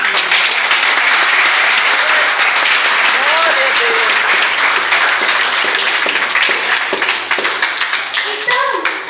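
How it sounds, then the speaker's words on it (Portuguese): Church congregation clapping steadily in rhythm during a service, a dense run of hand claps that thins toward the end, with voices and someone speaking mixed in. "Faz palmas para Jesus"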